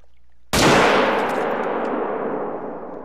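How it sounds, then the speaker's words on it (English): A single rifle shot fired at a grizzly bear in a hunting video game, a sudden sharp loud crack after a quiet moment, followed by a long, slowly fading echoing tail. "Gonna go ahead and take the shot on him."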